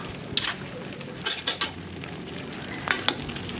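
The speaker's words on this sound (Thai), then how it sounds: "เมื่อปรุงรสลงไปแล้วก็ คนส่วนผสมต่างๆ ให้เข้ากัน" A seasoned shrimp and mixed-vegetable stir-fry sizzles in a pan while a utensil stirs it, producing a low steady frying hiss broken by several sharp scrapes and clinks against the pan.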